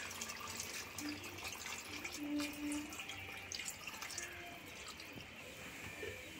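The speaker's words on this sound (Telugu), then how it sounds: "ఒక గ్లాస్ వాటర్ పోసుకుందామండి" A glass of water poured into a simmering chicken and bean curry in a village kitchen, a soft trickling and dripping pour heard faintly amid low background noise.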